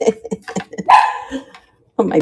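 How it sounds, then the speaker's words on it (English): A pet dog gives one loud, close bark in the middle of a person's talking and laughter, with the talk resuming after a short pause. "you hear my dog? She barked because I laughed."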